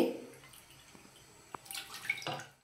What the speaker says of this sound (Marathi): आपल्याला आता 2 कप तांदळासाठी 4 कप पाणी घालून घ्यायचे